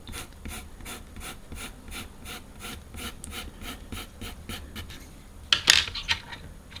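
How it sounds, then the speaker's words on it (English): Charcoal pencil dragged across paper, a General's or Derwent pencil pressed hard for dark marks, giving steady rhythmic rasping strokes close up, ending with a brief louder gritty scrape. "No matter how hard I push, and you can hear this, it sounds really like a scraping noise now."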